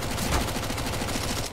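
Rapid gunfire in Counter-Strike, a dense burst of shots rattling in quick succession for over a second, loud and close, then cutting off abruptly.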